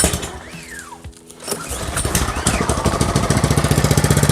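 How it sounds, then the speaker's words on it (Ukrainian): A Grunwelt GW 1P70FA lawn mower engine is pull-started with a brief rising rev, then settles into a steady, close, loud chugging run with an even beat. "Це заводиться легенько, чітко працює."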